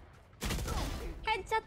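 A rapid burst of video game gunfire sounds, followed by a couple of shorter bursts, with a voice talking over the shots.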